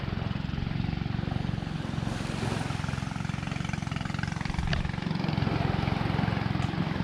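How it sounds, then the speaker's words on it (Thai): Fishing boat engines drone steadily and continuously at moderate distance off Ko Tiap, Chumphon, Thailand, a low throbbing motor sound with no pauses. "เสียงเรือด้วยแล้วเริ่มออกไปประมงกัน"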